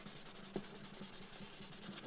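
Fine 1500-grit sandpaper rubs in a steady back-and-forth rhythm across a Tanglewood guitar bridge, faint and close, with a soft knock partway through and no talk.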